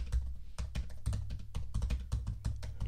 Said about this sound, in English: I think you get the idea of the sound. So it's pretty good, not terribly loud, but a different sound for a MacBook.